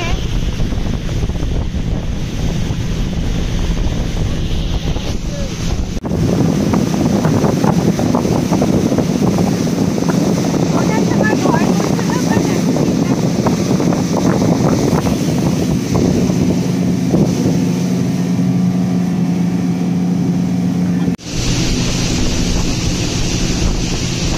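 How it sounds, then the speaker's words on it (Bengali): A speed boat runs over the water at Maithon Dam in the evening, its steady motor hum mixed with wind buffeting the microphone and splashing water, and voices chatter faintly beneath. "চড়ে গেছে স্পিড বোটে, কি মজা লাগছে।"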